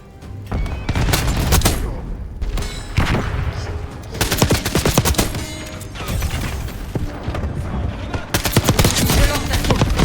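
Rapid bursts of MP40 submachine gun fire in a Call of Duty Black Ops multiplayer match, loud close-up rattling volleys repeating in clusters with short pauses, mixed with other game effects.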